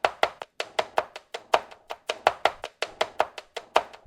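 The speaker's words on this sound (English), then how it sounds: "a chef's knife chopping on a cutting board." A chef's knife chops rapidly on a cutting board, a brisk run of sharp, close knocks in a steady, slightly uneven rhythm.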